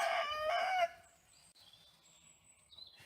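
A rooster crows in a long, loud call that breaks off into quieter, higher trailing notes, heard outdoors at an animal sanctuary.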